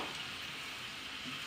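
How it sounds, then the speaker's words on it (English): Tomatoes and spices sizzle steadily in a pot as they are stirred for a soup, a close, even hiss with faint scraping and no talking. "I'll give these a quick stir."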